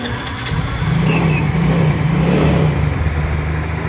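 A Yamaha Mio Soul 115i scooter with an idle speed control valve, whose engine dies when the throttle is released, revs steadily as the throttle is held open; a loud, close mid-pitched drone swells and eases over a few seconds.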